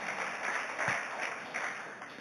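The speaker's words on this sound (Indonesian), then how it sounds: "Boleh kembali berikan tepuk tangan." Faint, distant clapping from a congregation fills a Sunday worship service at an Indonesian church, a soft, continuous patter with a steady hiss and no nearby voices.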